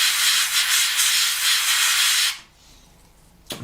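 Acrylic paint scraped off a Revell 1/32 Red Arrow Hawk model kit, a loud, steady hissing rasp that runs for about two seconds and then cuts off, followed by a brief scratch near the end.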